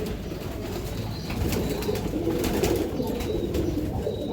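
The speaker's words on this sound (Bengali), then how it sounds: "এই যে দেখেন সবুজ গলা কবুতর তাদের পছন্দ" Green-necked breeder pigeons coo softly and repeatedly at close range, low throaty calls over a quiet background with a few faint wing flutters.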